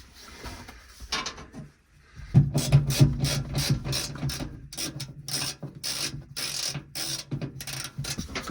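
A hand tool works on Volkswagen screws, giving repeated close ratcheting and scraping clicks in short bursts after a few quieter scrapes at the start.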